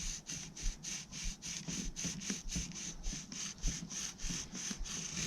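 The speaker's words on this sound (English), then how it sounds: "Now we're gonna go ahead and just hit this with a little bit of sandpaper and smooth it out" Foam-block sandpaper rubbed back and forth over a spinning rod handle, giving a steady run of quick, even scraping strokes, close and fairly quiet with no talking.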